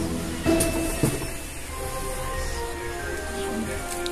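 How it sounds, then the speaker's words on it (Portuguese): Ordinary home inkjet printer feeding and printing onto a paper napkin, a mechanical whir with a couple of clunks from the feed and carriage, steady and close, no talk. "Então eu vou colocar assim na minha impressora pra ela copiar, certo?"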